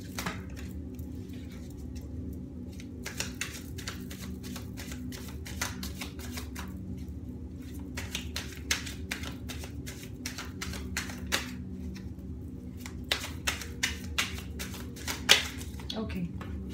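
Tarot cards being shuffled and laid out one by one on a table, producing soft repeated flicks and light taps under a person speaking throughout.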